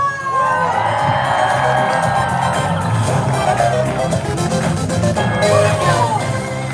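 A large crowd cheers and whoops at the Super Nintendo World opening ceremony, a loud, sustained roar with shrill yells and children's shouts running the whole time.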